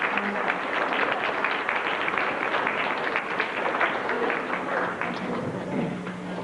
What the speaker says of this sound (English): I'm sure you'd like to give them a round of applause.